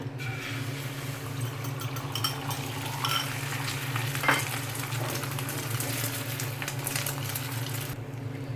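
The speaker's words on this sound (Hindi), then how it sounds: "फ्लेम को थोड़ा कम कर देते हैं और अंडा फ्राई करते हैं।" An egg fries in about a tablespoon of oil over a lowered flame for an egg shami burger, with a continuous soft sizzle and occasional light clicks of a utensil against the pan.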